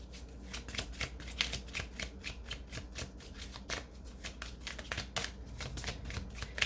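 Tarot cards are shuffled in quick repeated riffling bursts, a soft close papery flutter that continues steadily and quietly for several seconds.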